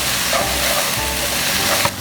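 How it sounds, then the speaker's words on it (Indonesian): A freshly ground spice paste hits hot oil in a wok for stir-fried purple eggplant with tofu, giving a loud, steady, close-up sizzle that carries on without a break and has no talk over it. "Sekarang kita udah mulai menumis bumbunya ya."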